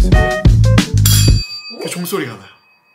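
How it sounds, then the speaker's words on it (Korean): A bell is struck with a sideways glancing blow, giving a bright metallic ding whose ringing tone hangs on and fades. Voices talk around the strike. "종소리가 나요."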